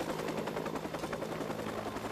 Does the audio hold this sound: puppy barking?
no